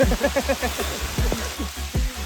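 Heavy monsoon rain falls at Ananthagiri Hills, a continuous hissing patter of drops with low rumbling thuds and voices over it.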